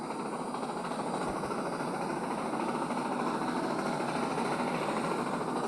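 Locomotive sound effects in a slice-of-life train video game: a steady, dense rumbling drone of a running train with constant hiss and wheel noise throughout, unbroken and fairly loud, with no talk.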